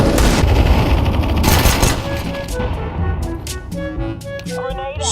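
Desert Eagle pistol shots in a video game, heavy loud gunfire bursts at the start fading into a busy mix of game music tones and effects.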